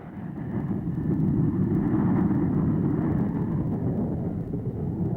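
Soviet jet aircraft roar past at the Tushino aviation parade in a continuous loud, rumbling drone that holds steady for several seconds, with no voices over it.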